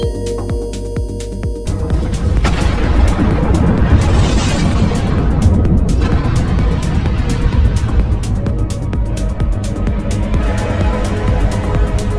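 A loud, sustained rumbling explosion depicting the Big Bang, with booming low roar and crackling debris, swelling and rolling on for several seconds.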